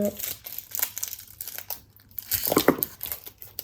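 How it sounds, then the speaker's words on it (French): Crinkly plastic packaging being unwrapped up close, with irregular bursts of crackling and rustling that swell louder toward the end. "Donc je vais tout déballer et puis"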